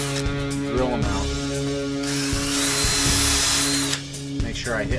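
A power drill bores out the old factory U-joints on a 1997 Chevy S10, whining loud and close in steady bursts with a short dip in speed near the end.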